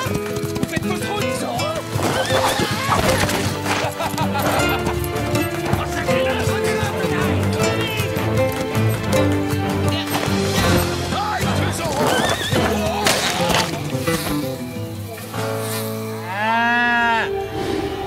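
A horse whinnies loudly near the end over busy orchestral music in a cartoon, with a steady thudding of galloping hooves running underneath.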